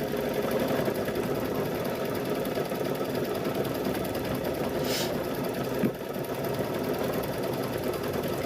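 A sewing machine runs steadily, quilting a wacky patchwork gnome quilt, with a close, continuous mechanical whir and rapid needle chatter, a brief hiss midway and a small knock near the end.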